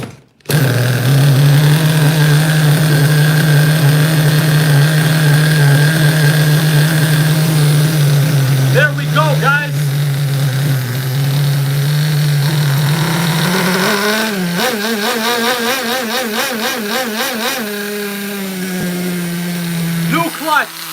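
A loud, close HPI RS4 nitro RC car engine with a new clutch idles with a steady buzzing drone, wavering and sputtering briefly midway before settling back to an even idle.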